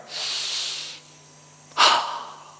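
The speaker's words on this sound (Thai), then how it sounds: "ก็จะแนะนำแบบง่ายๆคือหายใจเข้าไป" A slow, deep breath drawn in through the nose as a breathing exercise, a steady close hiss lasting about a second, followed after a pause by a sharper, louder release of air, with no talking.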